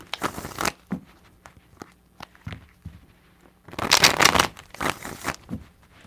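Tarot cards are shuffled by hand in a few separate crisp riffling bursts, close and fairly loud, with quiet gaps and small taps between them.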